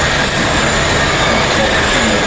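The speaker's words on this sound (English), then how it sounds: "here's the sound of the cars on the scene" Race cars on the Battersea Park street circuit in London, a loud continuous roar of engines and tyre noise filling the whole stretch without a break, close by and steady, with no talk over it.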